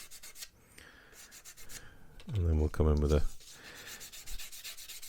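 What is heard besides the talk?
burnishing plastic sprue gate on Tamiya M1A2 Abrams model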